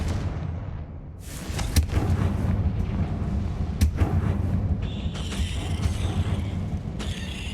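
The Confringo spell in Hogwarts Legacy goes off as a series of sharp, loud blasts and booming cracks. The explosions carry mechanical clatter and crackling debris, followed by a bright, sustained magical shimmer near the end.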